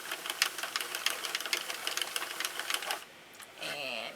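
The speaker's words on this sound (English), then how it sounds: "I want to crank a row without yarn." A Sentro knitting machine cranks through a row with no yarn loaded, giving a rapid, even clicking and ratcheting that runs for about three seconds before a softer whirring hum, close and fairly quiet.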